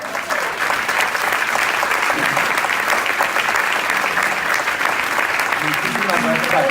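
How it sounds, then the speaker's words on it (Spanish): A live audience at a book presentation for Vanessa Montfort's novel bursts into sustained applause, dense clapping filling the room for several seconds without a break. "le voy a pedir un aplauso al público"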